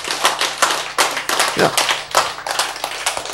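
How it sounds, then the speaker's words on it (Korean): A single person claps hands in a quick, irregular run of sharp slaps close to the mic, with a brief spoken word among them. "박수를 치고 앉아 있다 이 말이야"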